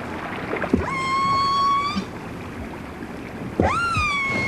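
Wild whales calling in the isolated Rubbing Beach cove, two rising, tonal harmonic calls with long sustained whistles, separated by a pause over a steady watery background hiss, fairly close and clear.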